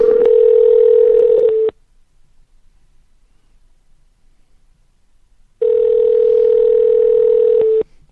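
A telephone tone sounds during an attempt to reconnect a dropped call: two loud, steady tones, each lasting under two seconds, separated by about four seconds of near silence.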